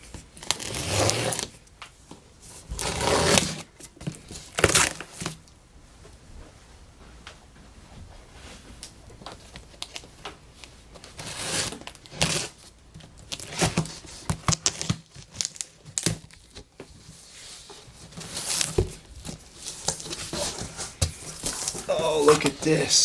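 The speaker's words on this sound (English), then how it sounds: "Let's cut this box open and see what we got." A cardboard box being cut open and unpacked, with flaps pushed aside, to get at a Cisco Algo Boost 3548 network switch on a tabletop: bursts of crinkling, tearing and scraping of cardboard and packing material, near and fairly loud, with pauses in between.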